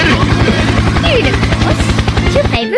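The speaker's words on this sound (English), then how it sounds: "Helicopter! Helicopter!" Helicopter rotor chopping in a loud, steady rhythmic beat close by for nearly three seconds, with excited voices over it before it cuts off.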